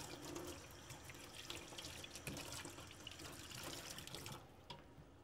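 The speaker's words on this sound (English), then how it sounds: "Now we're going to rinse it," A polycarbonate face shield being rinsed under a running tap, with a steady close wash of water splashing and trickling across the plastic for several seconds before the flow cuts off near the end.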